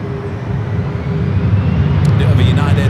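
An airliner taking off from runway 1 left at San Francisco airport, a steady distant engine roar that swells slightly, with a radio voice cutting in near the end.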